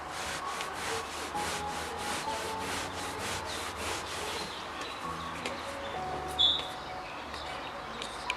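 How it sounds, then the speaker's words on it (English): A microfiber towel wipes across a freshly steam-cleaned surface after use of a Karcher SC2 EasyFix steam cleaner, giving steady, close rubbing strokes in a repeated rhythm with a brief sharp squeak near the end. "Now that we've steamed it, I'm going to take a microfiber towel"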